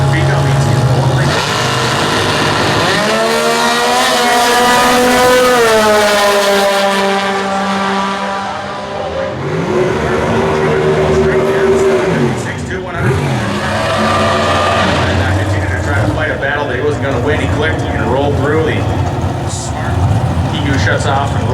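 A Chevy-engined Econo dragster with a 470 cubic inch engine and a single four-barrel carburetor, racing in Comp Eliminator at the 2014 US Nationals in Indianapolis. Its engine roars loudly and close, with pitch sweeping up and down through repeated revs across the run.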